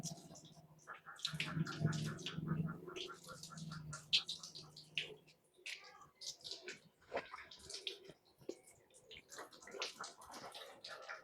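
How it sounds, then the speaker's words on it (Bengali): Water splashes and runs as feet are washed during wudu ablution, an irregular close-up patter of pouring and dripping with a voice talking over parts of it. "এবার আমরা একেবারে পরিষ্কার করে ধোবো।"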